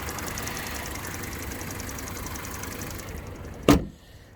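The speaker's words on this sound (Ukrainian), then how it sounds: "Мотор працює рівно собі насправно." Volkswagen Golf 4 engine idling steadily, a smooth continuous mid-level hum with no talk, ending in a brief sharp knock or bump near the end before the sound drops away.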